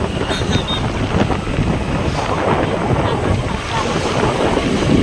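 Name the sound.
cold wind blowing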